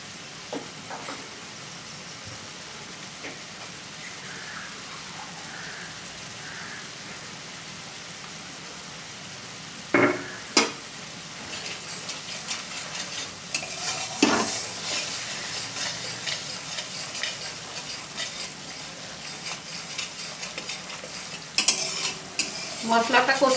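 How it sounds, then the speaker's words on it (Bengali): A spice paste with chili powder is sautéed and stirred in a pan for a Bengali hilsa fish oil curry. Steady sizzling runs throughout, with sharp scrapes and clanks of the utensil against the pan standing out at a few moments. "একটু কষিয়ে নেব। লঙ্কার গুঁড়ো দিয়ে দিলাম"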